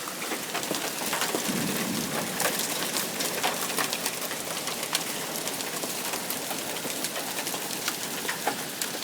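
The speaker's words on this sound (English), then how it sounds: "Seems to have slowed a bit, but the hail is bigger." Large hail falls in a hailstorm, making dense, continuous pattering with sharp scattered impacts across the whole stretch, along with low rumbling underneath and no talking.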